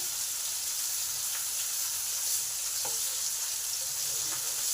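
Pumpkin pieces sizzling steadily in a hot pan, with a constant close frying hiss and a few faint clicks and crackles throughout.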